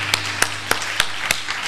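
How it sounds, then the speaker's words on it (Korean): A church congregation clapping together in unison during a worship service, five or six sharp, evenly spaced claps at a steady beat, heard clearly with no talking. "우리 주님께 영광의 박수 올려드리겠습니다."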